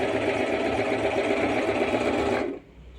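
An Usha Janome Stitch Magic sewing machine stitches at a steady rhythmic whir, loud and close, then stops abruptly near the end.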